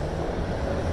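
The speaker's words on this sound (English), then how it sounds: "you can hear the train. It's the path." A PATH train passing in Harrison produces a brief, low, steady rumble heard from a distance, filling the short moment without other sounds standing out.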